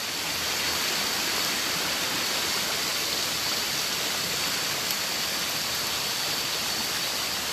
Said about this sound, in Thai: สงสัยเสียงน้ำตกจะกลบหมดนะครับ